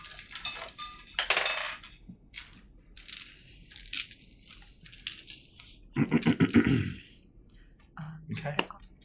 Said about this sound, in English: I should probably get my dice out.